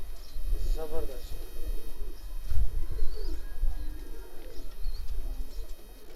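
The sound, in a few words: pigeons cooing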